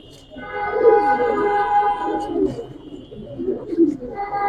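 Pigeons of old-breed Giribaz and colouring types coo steadily in a loft, several birds overlapping in low rolling calls that swell and fade throughout, with no talk over them.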